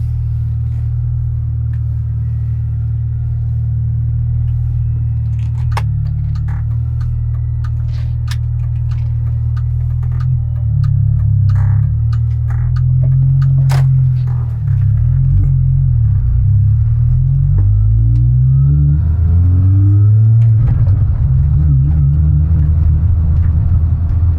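A Mini Cooper S R53 on the road drones with a loud, steady low engine rumble, rising and falling through revs and gear changes, with scattered rattles and clicks from the cabin.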